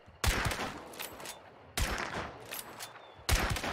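Three loud, evenly spaced gunshots fired at a zombie in the training mode of Hunt: Showdown, each a sharp close blast with a short ringing tail, no talking.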